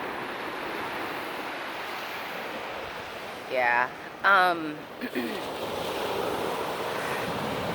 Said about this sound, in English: I don't know if you can hear me over the waves or not.